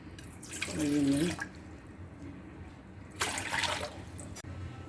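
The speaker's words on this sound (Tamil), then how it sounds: "இதில் 6 டம்ளர் தண்ணி ஊற்றிட்டேங்க." Water is poured from a tumbler into a pot for making ragi kali, two separate short splashing pours with a brief gurgling fill, quiet room sound between them and some soft clinks.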